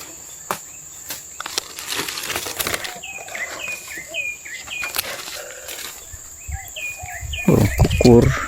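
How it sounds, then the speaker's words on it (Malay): A dove calls in a village orchard in Malaysia, giving repeated short stepped phrases at moderate distance over background insects, with a few wing flaps and rustling noises nearby. "Burung kukur."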